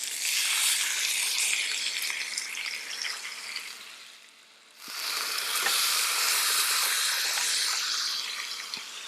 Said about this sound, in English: we will lay our thighs right down into the pan